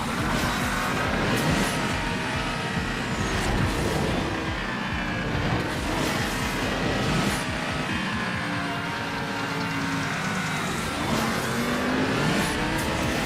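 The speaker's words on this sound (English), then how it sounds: "the V10 engine sound in this game is ridiculously loud" A V10 car engine revs in the racing game Asphalt 8, loud and continuous, its pitch rising and falling as it accelerates and shifts, with no voices over it.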